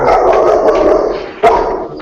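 A dog barks close by in a few sharp, loud bursts, with one especially strong bark near the end and no voices over it.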